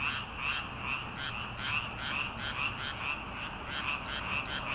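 Frogs croak steadily in a dense nighttime chorus beside a fishing pond, rhythmic pulsing calls overlapping continuously with no other sounds.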